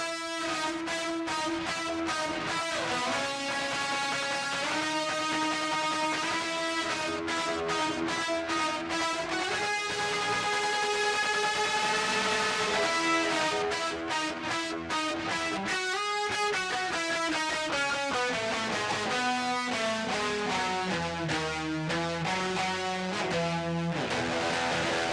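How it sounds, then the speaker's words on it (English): A distorted electric guitar plays a melody continuously, with sustained bright, gritty notes and shifting pitches throughout. "I love when the distortion sounds like it's ripping the speaker apart."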